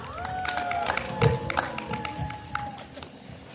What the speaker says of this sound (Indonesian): beri tepuk tangan yang meriah kepada para penampil Syarhil Quran.